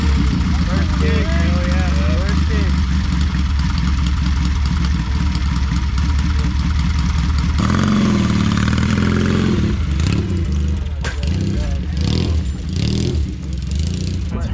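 A motorcycle at a camping spot kick-started and left idling, giving a continuous rumbling engine note that grows louder and rougher partway through, with people talking steadily over it.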